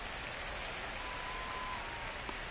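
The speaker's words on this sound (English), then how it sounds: "This rain is not letting up." Steady rain in the baseball video game MLB The Show 25, a continuous soft hiss of falling drops that stays even and fairly quiet throughout, with a faint thin tone drifting underneath and no voices.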